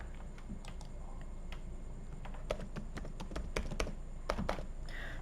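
Keys clacking on a computer keyboard as a password is entered, an irregular run of close, crisp taps with a few louder strokes, over a steady low room hum with no talking.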